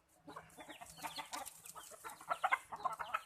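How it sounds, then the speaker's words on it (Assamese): Sonali chickens in a poultry yard cluck in a close, uneven chatter of short calls from several birds, quiet overall with no talking. "এইবোৰ আমাৰ সোণালী মুৰ্গী হয়।"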